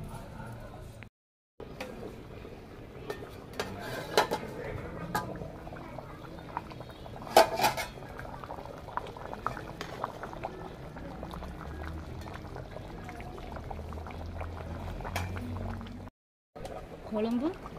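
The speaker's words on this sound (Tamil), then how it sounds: "குழம்பு நல்லா கொதிச்சிச்சு" A pot of beef kulambu curry bubbles and simmers on the stove, a soft, steady gurgling with faint pops and patter, quiet and close, briefly cutting out twice.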